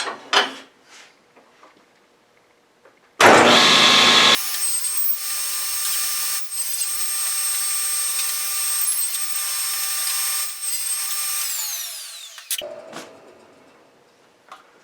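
A table saw starts with a burst, then whines steadily as it cuts through wood for several seconds before spinning down, with light handling noises around it.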